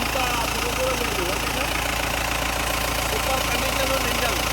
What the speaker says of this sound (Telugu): సూపర్ కండిషన్ ఉంది ఇంజన్.